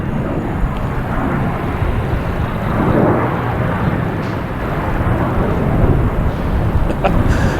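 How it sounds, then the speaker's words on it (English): A JetBlue Airbus A220 airliner landing at Boston Logan airport, its engines giving a steady, loud, broadband roar that holds evenly throughout with no breaks. "We have a JetBlue coming in from Detroit, an A220."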